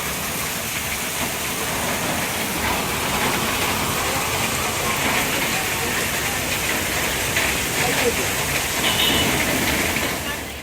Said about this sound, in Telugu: కొంచెం పెరుగుతుంది కానీ ఏమాత్రం కూడా తగ్గట్లేదు వర్షం.